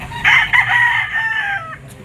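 Roosters crow loudly and close at a gamecock auction market in Lipa, one long cock-a-doodle-doo call held for about a second and a half, with a brief cluck near its end.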